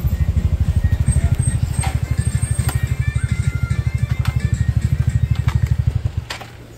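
A motorcycle engine on a trip from Kathmandu toward Salleri runs in a steady, rapid low putter close by for about six seconds, then its beat loosens and falls away.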